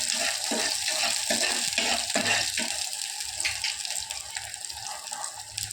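Onions sautéing in a pan, giving a steady close-up sizzle with soft scraping stirs during the first half, continuing as a quieter hiss toward the end; no talking.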